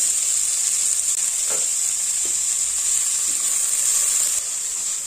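Curry leaves and green chilies sizzle in hot oil for a stir-fry, a steady, bright frying hiss with a few faint stirring taps underneath.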